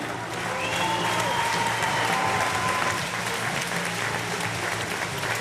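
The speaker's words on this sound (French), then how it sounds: "Place et applaudissements pour eux" Sustained audience applause at the award ceremony of the Montreux Volley Masters volleyball tournament, a broad, even wash of many hands clapping in a large hall, with a faint voice carried over it near the start.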